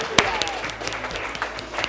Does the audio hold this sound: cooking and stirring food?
no